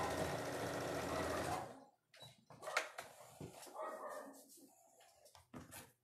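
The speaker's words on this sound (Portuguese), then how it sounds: "Olha o Zig latindo" A small dog barks and yips in short bursts indoors, after a sewing machine has run steadily for a couple of seconds and then stopped; the barks are fairly near and moderate in loudness.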